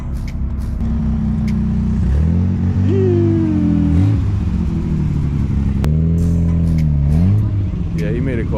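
A Nissan R33 GTR's engine revs loudly and close, its pitch climbing and falling through several blips over a rough idle on a street, with people talking over it.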